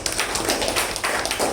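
Dense, steady applause from a Toastmasters club meeting audience, many hands clapping together for a second or two with no voices.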